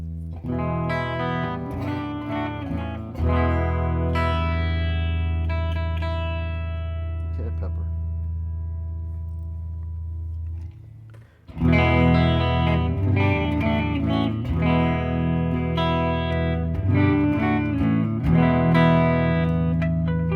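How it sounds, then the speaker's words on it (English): Electric guitar played through delay and reverb effects, sustained chords and notes ringing with long echoing tails, a brief near-silent gap midway, then denser strummed passages resuming loudly. "Here's what my delay and reverb sound like."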